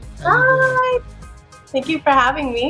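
A pet cat named Cocoa Bean makes a drawn-out meow, then a second shorter cry, close and clear amid friendly talk.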